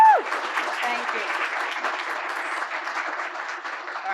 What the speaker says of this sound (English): big round of applause for Nicole and the faculty staff